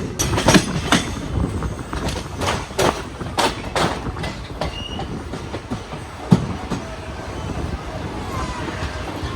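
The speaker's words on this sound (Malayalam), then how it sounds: "ഇത് വില്ലുപുരത്തുനിന്ന് വരുന്ന വണ്ടി" The Villupuram–Kharagpur Express rolls past on the rails with loud, rhythmic clickety-clack wheel beats and a faint squeal, steady and close for the whole stretch, with no talking over it.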